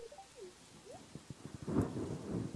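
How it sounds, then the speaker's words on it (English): Rain and rolling thunder in a farming life-sim video game, starting with a soft rustling patter and building into a louder rumble of thunder over steady rainfall. "Yeah, the rain's great."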